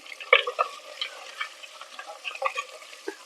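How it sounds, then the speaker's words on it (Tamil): Onions with crushed garlic, curry leaves and asafoetida sautéing softly in oil, giving a light crackling sizzle with scattered pops and a few clinks of a ladle against the pan, close and fairly quiet. "வெங்காயம் நல்லா வதங்கட்டும்"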